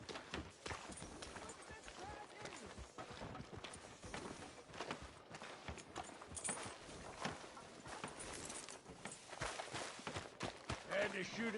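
Horse hooves clip-clop steadily in a Western-style video game street, a quick rhythmic patter of moderate loudness running beneath voiced dialogue throughout.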